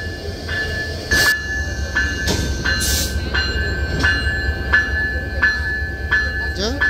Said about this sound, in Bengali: 6623 লোকোমোটিভ কিন্তু শান্টিং করা হয়ে গেল